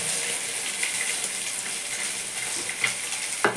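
Green chili, black mustard and poppy seed paste sizzling hard in a hot pan of oil, a loud steady crackling fry with occasional stirring scrapes and no talking.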